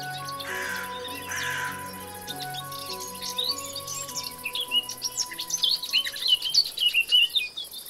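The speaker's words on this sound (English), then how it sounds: "Noisy birds." Noisy birds chirp and tweet in a survival video game, with many quick overlapping calls that grow denser toward the end, alongside insect-like trills and a faint background music drone.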